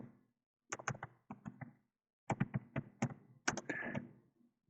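Someone types C++ code on a computer keyboard, with clusters of sharp, close key clicks and clacks in quick bursts separated by short pauses, with no voice over them.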